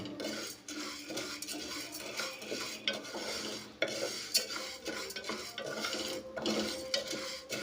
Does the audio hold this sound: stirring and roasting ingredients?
yes